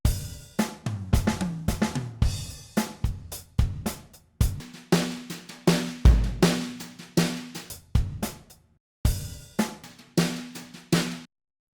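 A drum track, before matching EQ is applied, plays alone in a steady groove of punchy kick and snare hits with crisp cymbal or hi-hat sizzle, including brief gaps between phrases.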